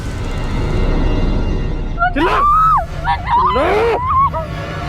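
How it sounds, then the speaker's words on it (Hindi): A person screams and wails in distress, loud and close, in two bursts over background noise in a crime drama scene. "मैंने वहां से किसी की चीख सुनी।"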